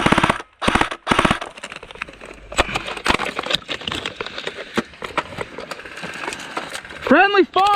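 An airsoft P90 firing heavy 3.2 gram BBs with slightly overhopped hop-up during gameplay: rapid bursts of sharp, clattering shots, loud and close, with a chirping whistle near the end and voices in the background.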